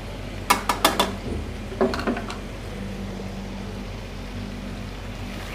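A spoon scrapes and clinks against a pan while mixing fried dal mash with chopped green chillies, ginger and coriander: a quick run of four or five metallic taps, then a couple more, before the sound settles into quiet background hiss.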